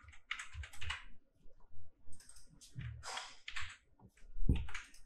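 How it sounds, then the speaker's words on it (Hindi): Someone types program code on a computer keyboard, close rapid bursts of keystrokes separated by short pauses, with one heavier thump near the end. "यहाँ पे हम लिख देंगे प्रोडक्ट।"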